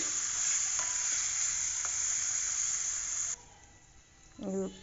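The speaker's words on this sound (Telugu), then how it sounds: "ఇప్పుడు పన్నీర్ ముక్కలు వేసుకుందామండి" Paneer pieces frying in oil seasoned with turmeric and chili in a pan give a continuous close sizzle for a few seconds. It then cuts to quieter background, and a brief voice follows.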